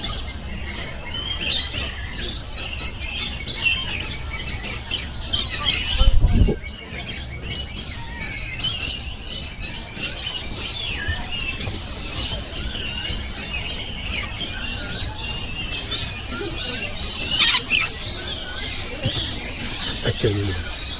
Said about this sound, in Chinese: 大多数是鹦鹉